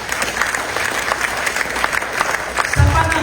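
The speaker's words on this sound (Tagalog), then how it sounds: "Yan na yung palakpak ni Lord." During a Sunday church service, the congregation claps in a steady, fairly dense burst of applause lasting a few seconds, with a low thump near the end.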